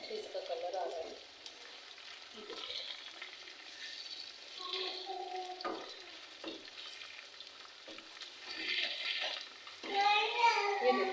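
Large fish pieces fry in oil in a home kitchen, with soft bursts of crackle and sizzle broken by utensil clatter, as someone talks intermittently over the pan.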